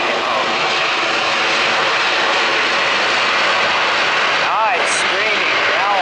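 Jet airliner engines at takeoff power heard from a spotting location at Atlanta airport: a loud, continuous roar with a high whine rising across the whole clip, with voices talking underneath.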